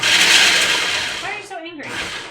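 A kitchen chopper whirs loudly for about a second while crushing food, then winds down as a person's voice briefly takes over.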